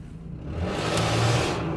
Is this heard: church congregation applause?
no